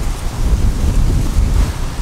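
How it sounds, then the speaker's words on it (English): Strong morning wind gusting hard into an outdoor microphone, a loud, steady rumbling buffet with no talking. "So windy this morning."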